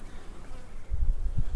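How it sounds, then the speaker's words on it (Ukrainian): Carniolan honey bees hum softly inside an open hive on a cold spring day, a faint steady buzz joined midway by low thumps of frames or handling. "Піднімається карніка, як і всі бджолки вверх"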